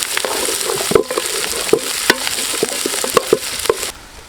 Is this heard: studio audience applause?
no